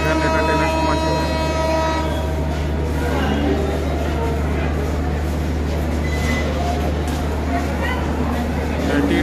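A train passing through a railway station, its heavy engine rumble and rolling wagon noise loud and continuous, with horn-like tones sounding over the roar.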